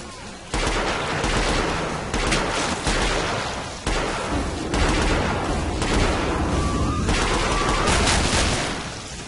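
Rapid bursts of gunfire from weapons in the video game Killing Floor, loud and near, with repeated volleys and short pauses running nearly continuously.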